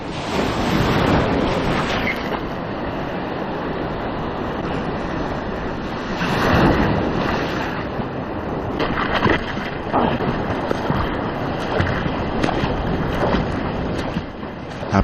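Ocean waves surge and break in a bay, a continuous loud roar of surf with repeated swells cresting and crashing close by, with wind buffeting the microphone.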